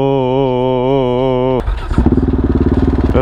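A motorbike engine holds a steady, buzzing high drone, then drops into a throbbing, pulsing rev as it accelerates, close and loud.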